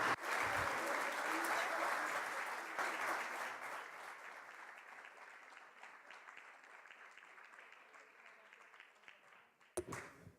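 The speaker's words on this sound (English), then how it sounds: "come here to receive a round of applause for" Applause from the audience at a regional methane summit for Latin America and the Caribbean fills the room, loud and dense at first, then thinning and fading over several seconds before a brief voice at the end.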